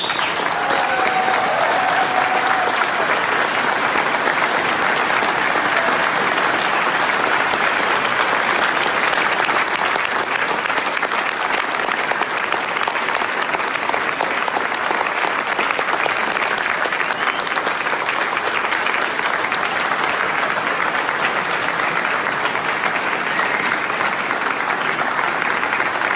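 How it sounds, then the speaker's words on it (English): A standing audience at a DealShaker expo in Paris breaks into sustained, dense applause that holds steady and loud for the full stretch, without a pause, as a big crowd claps together for staff working in Sofia. "I want you to stand up now and give an applause to my staff in Sofia."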